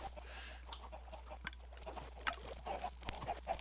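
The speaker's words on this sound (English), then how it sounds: "look at how many chickens are in there" Chickens clucking in the Minecraft video game, several scattered short clucks over a steady low hum and background noise, moderately faint.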